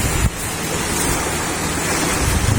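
Rough surf roars steadily during a typhoon off Surigao del Norte, with strong wind buffeting the microphone, a continuous loud wash of water and gusts with no voices.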